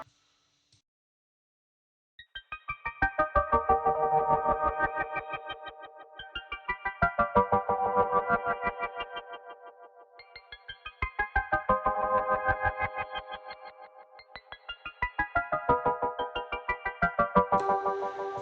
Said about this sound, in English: And after that I added this ARP I recorded on the Prophet 6 again.